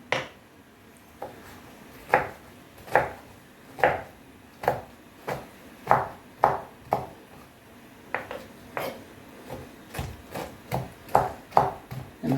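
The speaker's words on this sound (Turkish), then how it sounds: "Bunu şimdi doğrayacağım." Steady knife chops through beet greens on a board, about one or two per second, each a crisp clack with a slight ring, close by and with no talking.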